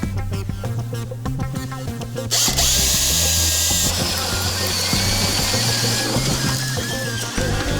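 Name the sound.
power drill boring through wood with a 2 9/16 drill bit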